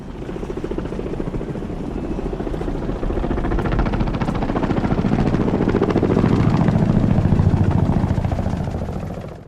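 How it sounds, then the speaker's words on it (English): Helicopter rotors thumping steadily in a continuous rhythmic chop that swells louder as the aircraft draws closer, heard alone without voices. "they hear helicopters approaching"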